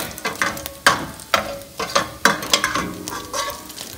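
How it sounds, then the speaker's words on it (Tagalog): Pork liver frying in hot oil for kilayen or igado, sizzling steadily close by with frequent sharp pops and spatters breaking out in an irregular rhythm, heard alone without talk. "Ingat lang kayo, pumuputok na siya."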